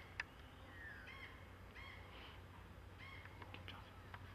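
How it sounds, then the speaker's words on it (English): A noisy friarbird calls in the Australian bush, harsh raspy squawks and caws repeated in short bursts several times, fairly distant and faint over low background noise. "That's a noisy firebird."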